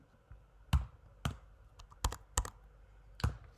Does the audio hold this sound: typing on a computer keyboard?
yes